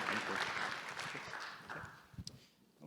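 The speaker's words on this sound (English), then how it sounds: "Let's give him a great round of applause." Audience applause after a fireside chat with an Equifax data and analytics officer, a broad patter of clapping that holds steady, then thins and fades out toward the end.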